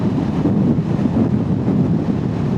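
Steady, loud wind buffeting roars over a Kawasaki Z500 SE motorcycle ridden at about 50 mph on a windy day, a dense low rumble throughout with no talking.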